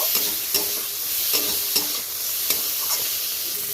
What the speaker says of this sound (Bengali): কেটে রাখা টমেটোগুলো আমি দিয়ে দিলাম। আবারও একটু নেড়ে চেড়ে নেব।